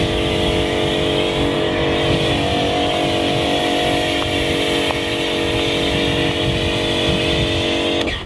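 Karcher pressure washer running steadily and loud while a foam cannon sprays snow foam onto a car, a continuous motor drone with hissing spray throughout and no pauses.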